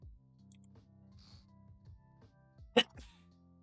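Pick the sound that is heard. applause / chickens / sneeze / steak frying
sneeze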